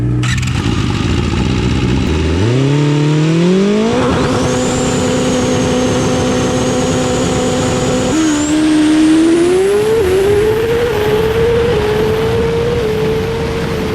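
A 2006 Suzuki GSX-R 750 motorcycle is run hard on a dyno. The loud, close engine note climbs steadily through the revs across a long, continuous pull, with no voices.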